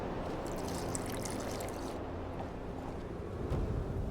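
Water poured into a mixture during an alchemy sequence in The Witcher 2, a steady splashing trickle under constant background noise, with a louder low burst near the end.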